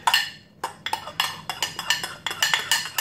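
Glue and shaving foam being stirred together in a bowl for fluffy slime, producing a quick run of close, sharp clinks and scrapes against the bowl, repeating irregularly about every quarter second.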